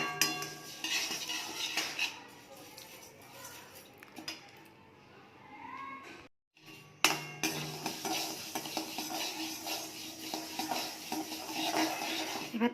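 Rice grains, first salted and sun-dried, are stirred in a wok with a utensil, giving close scraping and clinking with a soft sizzle, a brief pause midway, then brisk stirring again.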